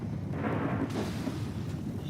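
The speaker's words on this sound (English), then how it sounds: "Oh, no, there's another explosion!" A deep rumbling explosion in GTA 5 during a nighttime tornado, a sustained low roar with a sharper burst near the middle, moderately loud and without speech.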